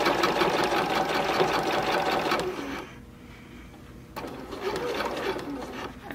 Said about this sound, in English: And now I'm stitching along the dart line.